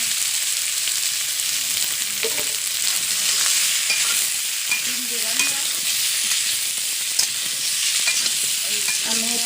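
Potatoes sizzle in a pan with cooked-down spice paste while being stirred, a continuous bright frying hiss broken by scraping utensil strokes.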